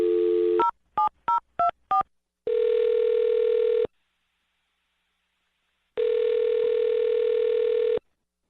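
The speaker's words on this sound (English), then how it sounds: "I'm going to dial their phone number right now" Rapid touch-tone beeps of a number being dialed, followed by two long ringback tones separated by a pause of silence.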